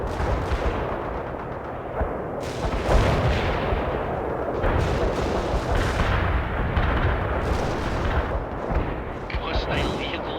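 Mortar and grenade fire in World in Conflict, repeated heavy booming explosions rolling one after another with a continuous rumbling battle din, while a voice talks over the barrage.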